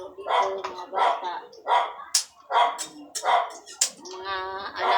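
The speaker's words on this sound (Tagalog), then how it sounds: "Mga alaga kong aso gutom na guys. Hinihintay na yung pagkain nila." Hungry pet dogs bark and yip in short bursts at close range while waiting for food, with children playing in the background.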